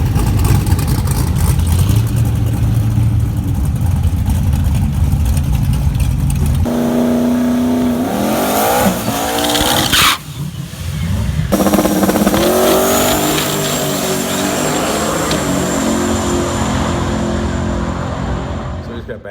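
A turbocharged 5.3 Camaro drag car roars loudly throughout, its engine note climbing hard after a brief cut as it launches and accelerates down the strip, staying close and dominant from start to finish.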